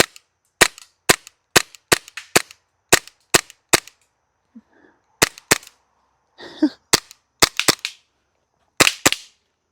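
A Lancer Tactical LTX airsoft rifle firing through its magazines: sharp, close single shots in steady strings with short pauses between bursts, a brief quiet gap midway with some faint handling noise.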